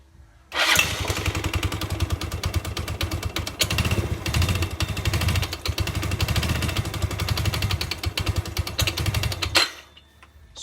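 A motorcycle engine with a faulty, hesitating carburetor starts and runs with its drive belt removed, a loud, close, rapid rattling idle with slight unevenness for about nine seconds before cutting off abruptly.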